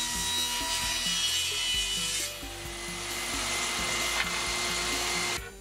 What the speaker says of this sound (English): I also had a few leftover boards from previous projects, so I ripped those down as well